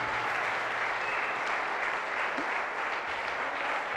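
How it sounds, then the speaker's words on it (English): Steady applause from a sizable crowd at a political dialogue event, a dense wash of clapping that holds at an even level throughout. "I want us to give a round of applause to Comrade Allen"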